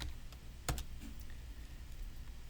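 A few keystrokes sound on a computer keyboard, a short burst of close clicks with one sharper tap standing out.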